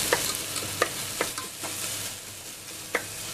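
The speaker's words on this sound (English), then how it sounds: "we're going to add in the garlic. And we're going to mix it into the onions." Garlic stirred into onions frying in a pan, a continuous close sizzle with scraping spoon strokes and occasional knocks against the pan.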